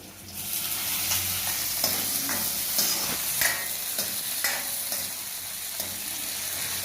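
Chillies sizzle steadily in hot oil with fenugreek and curry leaves for a vegetable sambar, a continuous loud crackling fry with occasional stirring scrapes and pops, close up.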